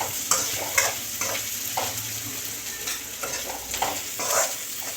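Chopped onion and green chillies sizzling in oil in a pan for a sprouted field-bean curry, with a spoon scraping and stirring in quick repeated strokes over a constant loud fry.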